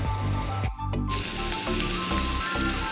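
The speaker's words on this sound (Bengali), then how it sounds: "গুঁড়ো, ধনে গুঁড়ো, জিরে গুঁড়ো দিয়ে এটা অনেকক্ষণ একটু ভাজা হোক।" Coriander and cumin powder frying in oil for a cauliflower masala, a steady broadband sizzle close by with a brief break, no talking.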